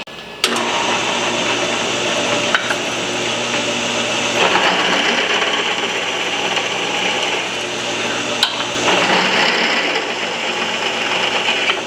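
Sander working over a steel plate for a Shovelhead bobber rebuild, a steady loud abrasive whir running continuously with brief dips and surges as the tool bears down, no talk.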